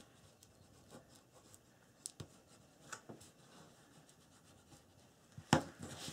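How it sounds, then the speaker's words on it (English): A bone folder rubs firmly along a paper seam on a handmade mini album, quiet scratchy strokes with a few sharper taps, close and alone. "get a really good burnish"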